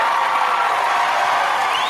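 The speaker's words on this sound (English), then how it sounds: "Look at that applause." A large audience at a political event applauds and cheers in a dense, steady wash of clapping that holds at an even level throughout, with no clear gaps.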